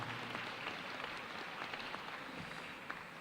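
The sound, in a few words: audience applause at school awards assembly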